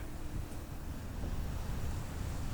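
Constant desert wind blows sand across open land, a steady low rushing roar with gusty buffeting that swells slightly toward the end.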